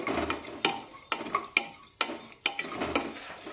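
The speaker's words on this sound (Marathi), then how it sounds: "आता मंद आचेवर हे ड्रायफ्रुट्स सुद्धा परतून घेऊया।" Cashews, almonds and raisins frying in ghee over low heat, a gentle sizzle broken by regular sharp taps and scrapes of a spoon stirring against the pan, close and moderately quiet.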